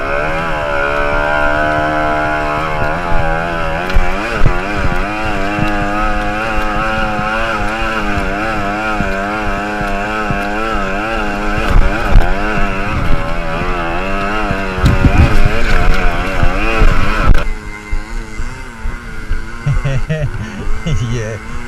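Moped engines drone loudly and continuously while riding out on a wet, muddy track, their revs wavering up and down with a steady hum throughout and a rougher stretch near the end.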